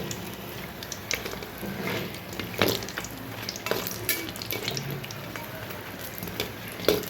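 Samosas deep-frying in hot oil give a steady, close sizzle with scattered sharp clicks and scrapes of a utensil moving them, no voices.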